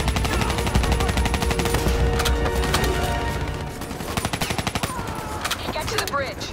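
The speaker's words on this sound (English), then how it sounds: "Give me some cover fire" Rapid automatic gunfire from the Call of Duty Black Ops 3 campaign, dense bursts of loud close shots and machine-gun rattle that thin into sparser fire later, with voices talking in between.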